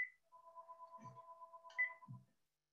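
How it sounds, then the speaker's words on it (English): A landline telephone rings in a quiet room, a thin electronic warbling tone with two short rhythmic bursts in it, fairly faint and heard alone. "That's my land phone."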